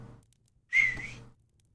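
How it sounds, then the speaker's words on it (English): A grass whistle used in the video game Salem gives a single short, bright, steady whistle tone of about half a second, loud and alone against near silence. "Let's just use a grass whistle."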